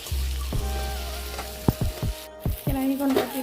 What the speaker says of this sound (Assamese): এইফালে কচু ভাজি আছোঁ